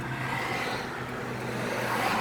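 On a residential street in an expensive neighborhood, a car drives past, a steady broad road roar with engine hum that swells slightly toward the end, heard alone with no speech.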